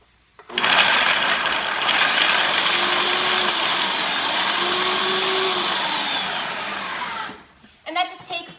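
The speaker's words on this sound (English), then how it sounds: "pop my top on my little processor here, and I'm just gonna quickly, as I get this on here if I can, grind this up" A small food processor pulses to grind carrots, a loud steady whirring motor that runs for about seven seconds and then stops abruptly, with a brief clatter afterward.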